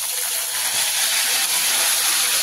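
Chopped onion dropped into hot oil already holding garlic and curry leaves, producing a loud, dense, even sizzle and hiss that holds steady throughout without any voices.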